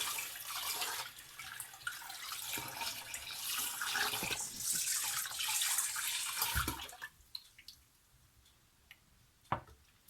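Rice washed in water, with running water and sloshing for several seconds, then quieter drips and a few sharp knocks and clicks of the container.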